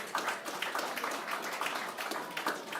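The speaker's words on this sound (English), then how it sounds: "Folks, round of applause for this lovely underbidder" Scattered applause from an auction room audience for an underbidder, faint and distant, a thin steady patter of hands with no voices over it.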